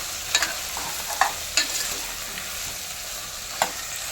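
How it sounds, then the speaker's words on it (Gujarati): Okra frying in a pan, with a steady soft sizzle broken by several quick scraping stirs of a spoon, close and clear with no talking. "હવે આપણે હલાવીને આપણે 2 થી 3-4 મિનિટ જેટલું ઢાંકીને રાખી દઈશું મીડિયમ ગેસ ઉપર"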